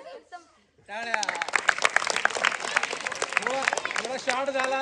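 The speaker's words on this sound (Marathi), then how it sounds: "टाळ्या." An audience at a school gathering breaks into loud, sustained clapping after a brief quiet moment, dense and continuous, with voices and laughter mixed in.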